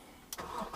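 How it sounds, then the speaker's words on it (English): A car engine cranks and catches with a short burst, then settles into a running idle, close by. "The engine run this time"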